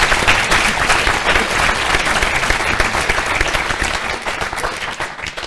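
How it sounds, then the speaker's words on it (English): Sustained, loud audience applause filling a lecture hall after a talk on artificial intelligence and the human genome, dense and steady throughout before easing slightly near the end. "let's give a big round of applause to Raeka for nice meeting"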